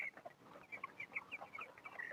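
Clucking and soft calls from 24-day-old broiler chickens moving about a shed, a steady scatter of short chirps and clucks at moderate distance.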